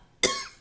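A single sharp cough, close and fairly loud, bursting out suddenly and trailing off quickly with no talking.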